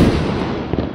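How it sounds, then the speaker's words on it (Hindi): Diwali firecrackers burst in a dense, roaring crackle, loud and close, continuing without a break through a brief moment of festive celebration. "ये पटाखे देखो तो सही यार"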